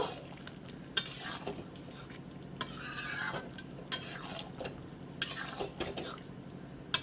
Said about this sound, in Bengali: একটু সামান্য গরম মশলা দিয়ে আর একটু কষিয়ে নেবো, নাড়িয়ে চাড়িয়ে নেব